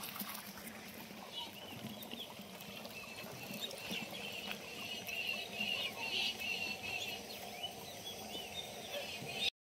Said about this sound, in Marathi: मोटर चालू झाली. पाणी सोडले आता गिनीगोलावर